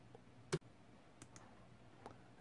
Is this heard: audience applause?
no